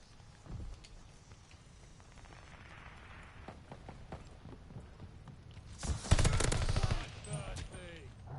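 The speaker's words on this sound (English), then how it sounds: "I'm honestly glad I won that gunfight." Rapid automatic gunfire rattles through a gunfight in Call of Duty: Vanguard, starting with scattered shots and building to a loud, dense burst of fire, with speech faintly present.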